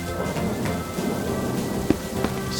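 Rain falls steadily in a cartoon scene, a continuous patter with a few sharper drop hits and a brief bright splash at the end.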